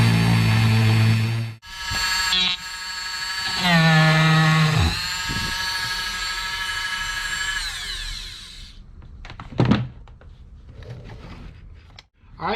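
A power drill with a boring bit whines loudly into sandstone, boring small holes in steady sustained runs that rise and settle in pitch, then cuts out, followed by a few short knocks and scrapes.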